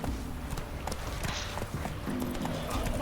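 Geralt's horse Roach trots in The Witcher 3 video game, with a steady, close run of hoof clip-clops over faint ambient sound.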